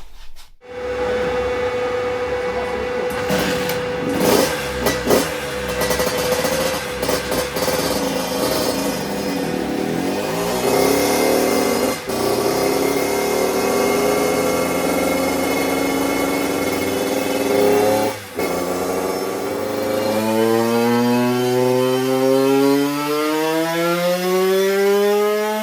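An 82cc two-stroke supermoto engine with a PVL stage 6 ignition runs hard and raspy close by for the whole stretch. It holds a steady buzzing drone with brief blips, then revs rise and fall at the end. No one speaks.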